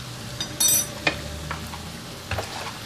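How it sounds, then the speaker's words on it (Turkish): Liver frying with chili flakes, black pepper and salt, stirred in a pan, a soft sizzle punctuated by several sharp scraping stirs and clinks, close up with no talk. "İyice karıştırıyorum."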